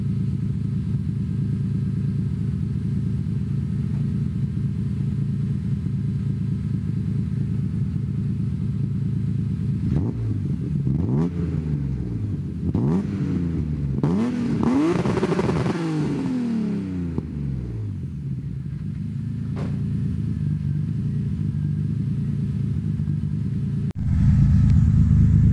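BMW E36 with an M54B30 straight-six, exhaust warmed up, revved hard several times in a row, rising and falling engine pitch over a steady idle rumble, loud and close with no talking.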